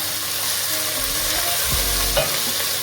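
Ginger and garlic frying with onions in a pot for beef pilau, a steady close sizzle running throughout with a few soft stirring scrapes and knocks, no voices.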